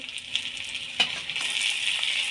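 A paste of ground onion and poppy seed fries in a pan for a pointed gourd and prawn posto dish, giving a steady, close hiss of sizzling with one brief scrape partway through and no voices.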